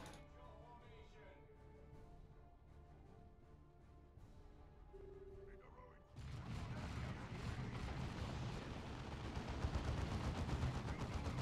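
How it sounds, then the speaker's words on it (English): Turrets open up in a Warhammer battle, a dense, loud barrage of rapid gunfire and heavy impacts that erupts abruptly after a quieter stretch of game ambience and keeps building to the end. "that's the sounds of some turrets"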